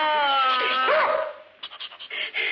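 A cartoon dog vocalizes with a whining, yelping tone that slides up and down, followed by a quick run of short choppy barks or yips, close and fairly loud.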